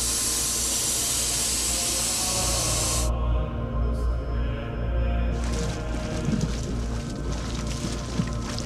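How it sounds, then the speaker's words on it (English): Steady broadband hiss from a geothermal steam vent at Krysuvik, Iceland, loud and close, running continuously with slight surges and flutter partway through. "that noise you can hear is the steam vent right behind me"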